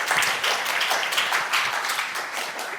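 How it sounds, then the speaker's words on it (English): Applause from a lecture audience for a volunteer, a steady dense wash of many hands clapping together, fairly loud and close, lasting throughout with no talk over it. "Round of applause for our first volunteer."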